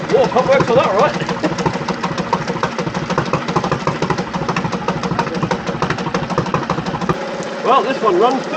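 A reserve outboard boat motor runs steadily at idle with a continuous, close mechanical chug and a faint knocking pulse, and voices are heard over the engine.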